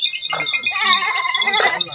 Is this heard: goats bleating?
yes